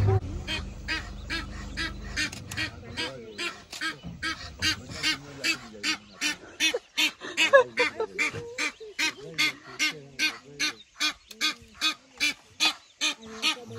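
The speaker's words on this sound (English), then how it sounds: "the duck is seriously calling the kids to move away from the lion" A wild duck calls near a hunting lioness in Tsavo East National Park, giving a long run of loud, evenly spaced honking quacks. Low rumbling comes early, then the calls continue steadily on their own.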